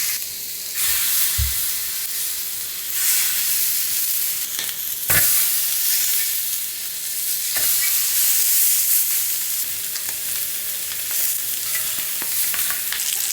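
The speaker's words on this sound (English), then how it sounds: "Next step, we're gonna be sear our pork." Pork belly searing in a hot pan or wok for a Thai five-spice stew, a loud continuous hissing sizzle with occasional bursts of spatter and a few clanks of utensils.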